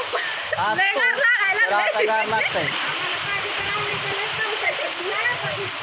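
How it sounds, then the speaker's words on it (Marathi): Rain pours in a constant hiss, with a voice singing or speaking over it at the start. "पावसात भिजल्यावर आनंद असतो"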